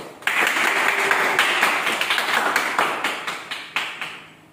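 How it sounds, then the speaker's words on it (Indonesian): A classroom gives a student a round of applause: dense clapping from many hands starts abruptly, holds steady, then thins out and fades near the end. "Beri tepuk tangan untuk Peri."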